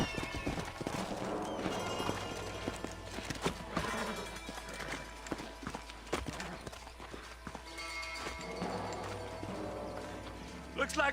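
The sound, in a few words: horses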